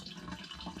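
Gasoline streams steadily out of a leaking lawn mower fuel line, a soft continuous trickling and splashing that stays close and even throughout, with no talk over it.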